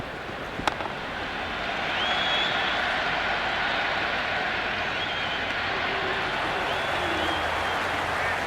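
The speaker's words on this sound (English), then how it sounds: "There's an almost tangible fervour throughout the crowd at the moment." A cricket stadium crowd at an England versus India T20 match keeps up a loud, continuous roar of cheering and applause that swells after the opening seconds and holds steady.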